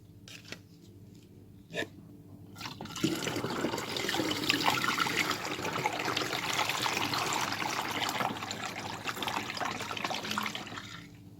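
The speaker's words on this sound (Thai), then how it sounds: "ระหว่างนี้เราจะไปเทน้ำลงถังหมักนะคะ" Water pours steadily in a continuous splashing stream into a fermenting tank for peach and ginger wine, preceded by a few faint knocks and clicks before the flow starts.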